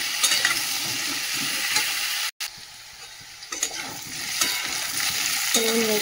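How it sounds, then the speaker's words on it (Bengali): Taro and potato frying in a pan with salt and turmeric, a steady hiss of sizzling oil with the scrape and clatter of stirring, close and continuous, briefly cut off near the middle before resuming. "কচু আর আলুটা হালকা ভাজা হয়ে গেছে"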